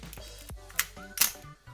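A Nikon FM2 film camera has its shutter cocked and released during a pre-sale test, with a few crisp mechanical clicks and snaps close up, quiet and sharp, and no voices.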